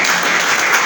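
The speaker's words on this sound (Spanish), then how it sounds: "Denle otro aplauso a él." A brief, dense burst of church congregation applause, many hands clapping at once, loud and close.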